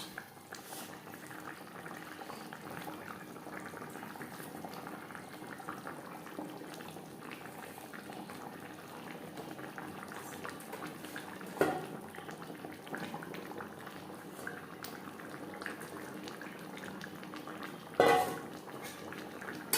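Sar puti fish curry gravy simmers in a pot with a faint, steady bubbling that runs throughout, broken by a couple of brief clinks.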